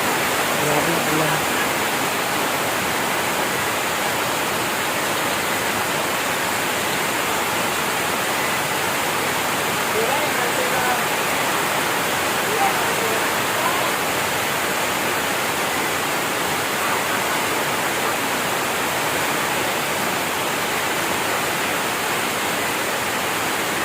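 Heavy rain pours down for the whole stretch, a loud, dense, unbroken hiss that stays close and steady, with no pauses and nothing else standing out above it.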